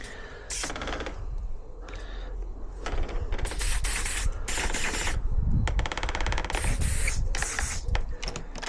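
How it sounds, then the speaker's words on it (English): Spray can spraying onto a French door: several loud hissing bursts of varying length, separated by short pauses and some rubbing or clicking handling noise. "we'll just give it a little spray"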